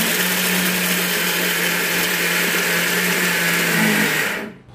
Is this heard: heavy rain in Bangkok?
no